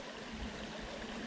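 A small stream with wild brook trout flows steadily nearby, giving a continuous, even rush and trickle of water with no voices.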